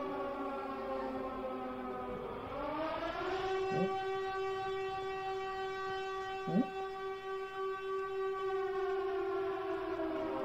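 A loud, steady siren wails in the video game The Pizza Freak, with a rising pitch that settles into a sustained howl, with a brief exclamation from a voice partway through.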